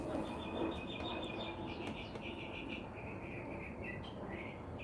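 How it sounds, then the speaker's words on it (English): Birds chirping outdoors, a run of thin high tweets repeating over a steady background hiss and low rumble, fairly faint and continuous. "The birds chirping."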